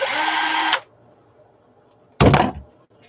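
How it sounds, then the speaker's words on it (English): A handheld power drill whirs in two short bursts, a longer spin first and then a brief second one after a pause, both close and loud in an otherwise quiet room. "I get the right drill for this one."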